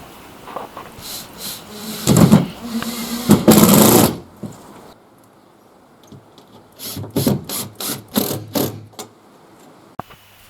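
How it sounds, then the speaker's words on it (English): A power driver sinks drywall screws into timber roofing-lath framing inside a steel shed: two loud bursts of whirring, grinding screw-driving, then a quieter pause, then a series of short rapid buzzes, close by. "Again, using drywall screws to attach this."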